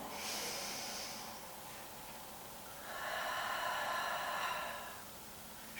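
Two deep breaths during a yoga balance flow, held in a low lunge: a slow breathy inhale followed by a longer, fuller exhale, close and soft with no talking.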